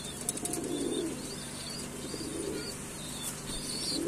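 Racing pigeons come in to land at a loft, with wing flaps and soft coos over a constant outdoor bed of noise and faint chirps, moderately distant.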